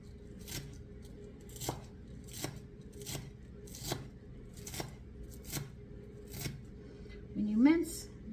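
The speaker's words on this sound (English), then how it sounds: "when I start really chopping it fine, you'll see that it gets smaller" A knife chops and minces onion on a cutting board in steady, evenly spaced taps, close and crisp, with a short rising squeak near the end.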